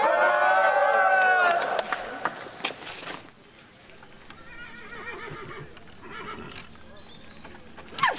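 A horse whinnies loudly and close at the start, a long harmonic neigh, followed by scattered hoof clip-clops and quieter snorts while people talk in the background.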